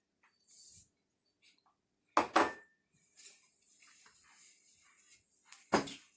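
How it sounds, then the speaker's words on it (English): Oats being added and stirred into cookie dough in a bowl, with a few soft scrapes, then two louder clusters of spoon-on-bowl clatter and scraping, close and isolated with no talking. "you're going to want to stir in the oats and the chocolate chips, starting off with the oats"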